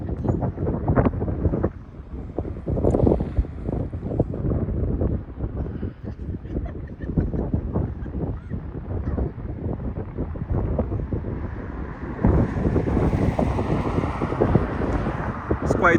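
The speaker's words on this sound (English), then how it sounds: "It's quite windy," Strong wind buffets the microphone at a scenic lookout in New Zealand, a continuous low roaring rumble with gusty surges, rising harder toward the end.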